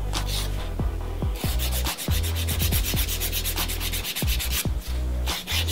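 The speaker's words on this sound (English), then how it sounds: "Because it's a soak-off gel, it's still quite soft to file." A soft soak-off gel nail being filed with a 180 grit file during a sculpted French gel manicure, giving steady rapid scratchy back-and-forth rubbing strokes, close and continuous with no talking.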